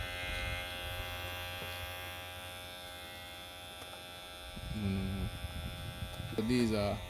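Electric hair clipper, freshly oiled with Salon Affairs clipper oil, gives a steady, smooth mains-frequency buzz throughout, with voices briefly speaking over it near the end.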